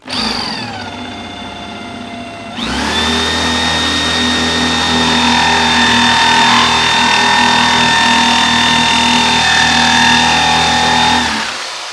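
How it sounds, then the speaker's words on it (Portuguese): A power drill boring a straight hole into wood clamped in a vise at a woodworking bench, a loud close motor whine that starts, steps up sharply, then holds a steady drone before stopping near the end. "só para que você veja como ela vai fazer o furo nas extremidades, totalmente reto"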